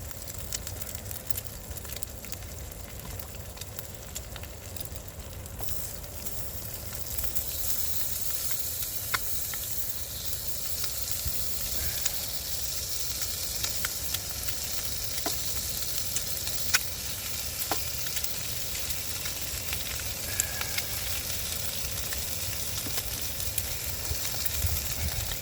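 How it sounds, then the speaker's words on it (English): Sausages reheat in a pan at a freezing -5°C overnight camp in a Toronto park, giving a steady, moderate sizzle that grows fuller after the first few seconds with occasional small pops, and no talking. "I'll put those sausages back on to heat them up"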